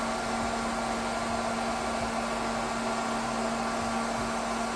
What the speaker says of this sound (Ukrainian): знімаємо глайди за допомогою фена